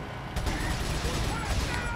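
Gunfire aimed at an approaching car in the video game Resident Evil 4, as a run of sharp repeated shots with broadband bursts over a steady game background, fairly loud and close.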